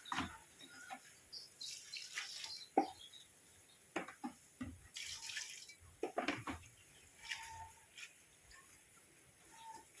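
Rice noodles being rinsed and washed by hand in a basin of water, with intermittent splashing, dripping and sloshing close by, irregular and moderately quiet, with no talking.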